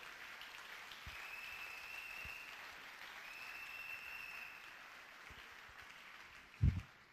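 An audience applauds steadily at a church sermon, a moderate, even wash of clapping at middle distance that holds throughout, with a brief louder thump near the end.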